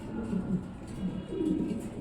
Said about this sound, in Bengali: এখানে দেখতে পাচ্ছেন এক জোড়া বিউটি কবুতর